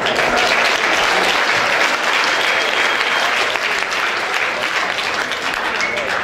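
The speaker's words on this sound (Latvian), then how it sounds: "Sagaidām ar aplausiem!" A large outdoor festival crowd claps loudly and continuously for a band about to play, a dense, sustained wash of applause with faint cheering mixed in.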